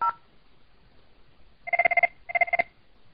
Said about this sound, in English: the phone rings briefly and then the call dies